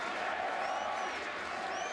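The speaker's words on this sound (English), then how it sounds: "the crowd are really getting behind them" Crowd at a rugby match between Treviso and Ulster roars in a sustained wash of cheering and applause, steady and fairly loud, with a faint commentator voice underneath.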